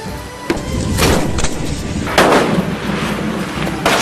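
Several sharp gunshots crack out at irregular intervals, loud and close, with reverberating booms between them.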